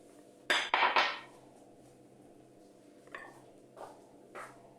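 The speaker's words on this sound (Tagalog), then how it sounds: "paghaluin lang natin ang ating sangkap sa mixing bowl" Utensils clatter against a mixing bowl while sweet potato salad ingredients are stirred together, a quick loud cluster of clinks followed by a few softer scrapes and taps in a quiet kitchen.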